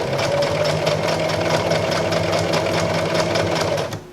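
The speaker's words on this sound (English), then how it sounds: "I'm going to be stitching right close to that stitch, a hair in from it." Sewing machine stitching a hidden zipper into fabric, a steady rapid mechanical whir with rhythmic needle clatter running loud and continuous close by, then stopping abruptly at the end.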